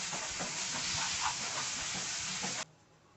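Ginger garlic paste and chili powder frying in a pan for a prawn fry, giving a steady close hiss and sizzle with faint stirring scrapes that stops abruptly near the end.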